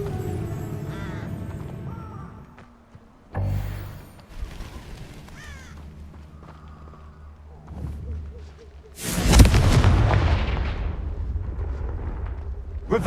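Fiery spell explosions burst in the Hogwarts Legacy video game, with loud broadband blasts and whooshes, the biggest erupting near the end, amid crow caws and other game sounds.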